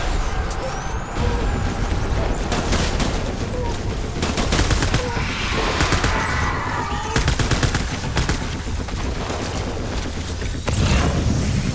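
Heavy gunfire in the video game Death Stranding, with rapid automatic bursts and sharp shots firing almost nonstop, loud and dense with brief booming hits mixed in.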